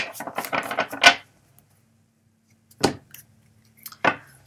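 Playing cards being shuffled, a quick riffle of crisp flicks building to a sharp snap, then two brief isolated taps after a pause.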